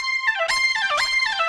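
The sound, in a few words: Oberheim synth fast low-high note tremolo with slow glide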